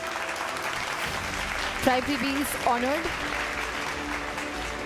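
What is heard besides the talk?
audience clapping at an award ceremony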